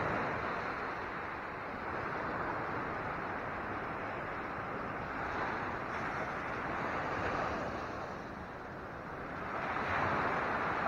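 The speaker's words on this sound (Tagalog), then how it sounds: "Laki ng alon, no?" Large ocean waves roll and crash on the shore at El Payo in Lian, Batangas, making a loud, constant wash of surf that swells and recedes, with wind noise mixed in.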